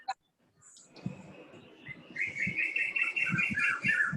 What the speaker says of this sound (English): Lovely to hear even the birds in your garden